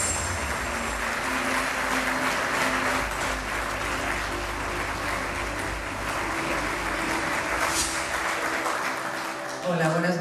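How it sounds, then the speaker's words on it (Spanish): Audience applause at an awards ceremony for an audiovisual festival in Torrevieja, a steady dense clapping that fills the room for about ten seconds, with voices mixed in underneath. "Recibimos con un fuerte aplauso a Judith Colel."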